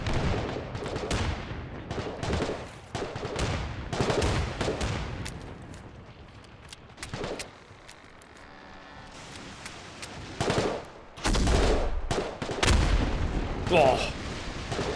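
Guns firing in an invasion scenario, a series of heavy booming blasts in irregular bursts, some close and loud, with quieter rumbling stretches between them.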